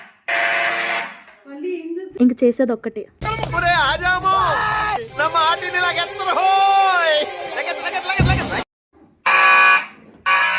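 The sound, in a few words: fire alarm ringing in building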